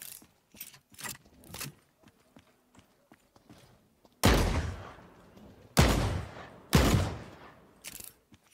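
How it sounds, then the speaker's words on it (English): Gunfire from far off in The Cycle: Frontier, Crescent Falls: a few faint taps early on, then three loud, sharp bursts with decaying tails, separated by about a second and a half, and a last short crack near the end, with no talk. "I hear so many shots in the distance."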